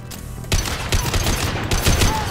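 Gunfire in Mass Effect 2, a high impact shot followed by a rapid volley of punchy, loud bursts in quick succession, with a faint voice underneath.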